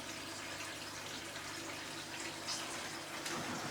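A small waterfall in a vivarium trickles and drips without a break, a steady soft splashing wash that stays even and close throughout with no voices.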